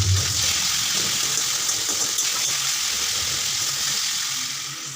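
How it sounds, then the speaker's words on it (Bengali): Chopped onion and potato pieces fry together in a pan with a steady, close hiss of hot oil that stays even throughout and eases off slightly at the end. "এই পেঁয়াজের টুকরোগুলো আলুর মধ্যে দিয়ে দিলাম দিয়ে এবার আমি সমস্ত কিছু ভালো করে আবারও ভেজে নেব"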